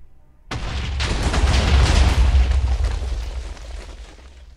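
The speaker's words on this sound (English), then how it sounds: "Explosions are the best." A single loud explosion in a video game bursts in after half a second of quiet and rolls on as a long, heavy boom with deep rumble and crackling debris, fading slowly.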